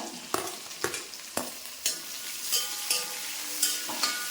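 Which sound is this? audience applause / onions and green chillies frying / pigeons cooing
onions and green chillies frying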